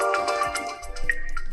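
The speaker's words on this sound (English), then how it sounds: "let's pretend I'd like this forest morning to be set as my ringtone" Forest morning nature ringtone on a OnePlus Nord CE 5 phone, a bright, close melodic tone with chirpy birdsong-like notes repeating over a steady sustained backdrop, no talking.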